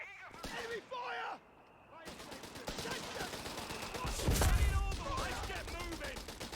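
Battlefield gunfire from Company of Heroes 3 with British forces, bursts of shots and heavier blasts layered under game voice callouts, building to a loud, dense burst midway.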